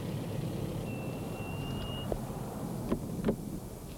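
A vehicle arriving on a street, a low engine rumble throughout with a brief steady beep and a couple of short clunks near the end, no talking.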